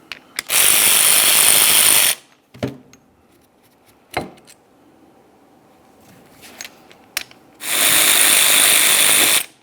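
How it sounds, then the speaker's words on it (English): Ratchet loosening the 13mm caliper slider bolts on a Ford Flex rear brake caliper, two long loud bursts of rapid clicking at the start and end, with scattered metallic clinks and taps between them. "Remove your two 13mm caliper slider bolts."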